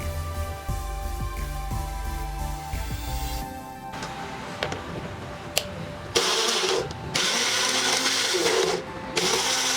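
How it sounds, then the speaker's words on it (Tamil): A mixer grinder blends tomato and dried red chili chutney into a fine paste, with bursts of loud whirring and grinding that start and stop between pauses. "ஃபைன் பேஸ்ட் ஆகிற வரைக்கும் அரைச்சிட்டா கார சட்னி ரெடி"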